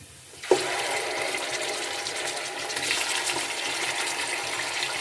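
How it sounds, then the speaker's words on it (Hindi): Chicken dropped into a pan of frying ginger and crushed green chilli for chicken karahi, bursting into a loud, steady sizzle that starts abruptly and holds for several seconds with no talking. "अदरक को हमने फ्राई कर लिया। अब इसमें हम चिकन डाल देंगे।"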